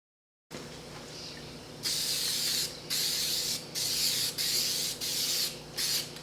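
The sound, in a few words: spraying gasket sealant on engine block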